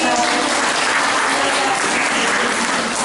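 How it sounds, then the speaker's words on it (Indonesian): Loud, sustained applause from a seminar audience at a parenting seminar held by Perguruan Pius Pemalang, with dense clapping filling the room evenly from start to finish and no voices over it. "tepuk tangan sekali lagi."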